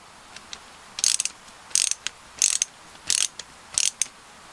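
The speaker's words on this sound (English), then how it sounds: "Let's go ahead and put these screws back in." Screws being tightened back into the servo mount of a Redcat Everest 10 RC crawler make five close, crisp ratcheting bursts at a steady rhythm, with fainter clicks between them and no talking.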